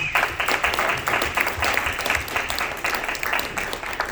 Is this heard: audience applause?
yes